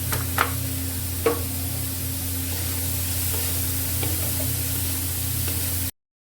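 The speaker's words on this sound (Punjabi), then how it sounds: "ਨੂਨ ਮਿਰਚ ਚਲੋ ਜੀ ਆਪਾਂ ਇਹਨੂੰ 2 ਮਿੰਟ ਬਸ ਹੋਰ ਭੁੰਨਾਂਗੇ" Masala with salt and chili roasts in a pan with potatoes and green beans, giving a steady close sizzle broken by a few stirring scrapes before it cuts off.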